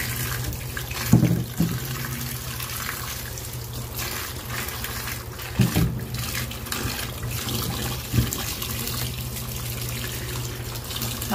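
Tap water runs steadily into a sink while fresh cucumbers are rinsed, with a few brief louder splashes and clunks as the vegetables are handled up close.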